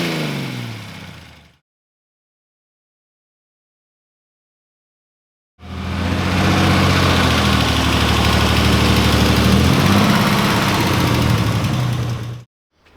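A Ford V6 engine in an old Ford Pop idles with a knocking fault, a loud, close, steady low chug that runs for several seconds after a short earlier burst and a silent gap.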